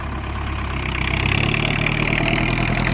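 A Kubota L5018 tractor engine with a corn-stalk chopper hitched behind, running steadily close by with a low, throbbing rumble that picks up slightly and then holds even.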